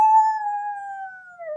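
A single sustained, wavering howl imitated by a reader's voice, pitched like a monster's call, holding steady and then sliding downward at the end, fairly loud and alone.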